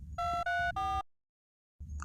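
A telephone ringback tone sounds three times in quick succession, loud and clear, then cuts to silence before faint background noise returns.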